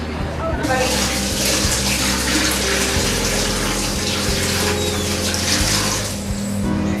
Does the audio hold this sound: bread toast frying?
no